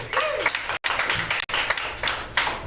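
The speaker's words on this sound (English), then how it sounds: "thank you for your overwhelmingly lackluster applause" A comedy club audience claps between acts at a weekly comedy festival, a modest, steady patter of hands with a couple of brief cut-outs, fairly close and moderately loud.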